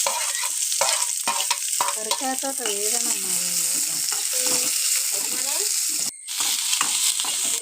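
Onions dropped into hot oil with mustard seeds in a home kitchen, sizzling and frying close up as a spoon stirs and scrapes the pan, with a brief pause near the end.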